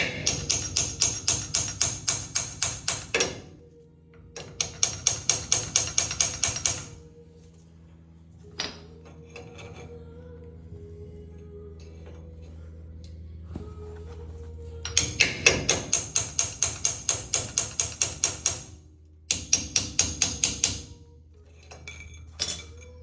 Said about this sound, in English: I'm gonna take a smaller hammer.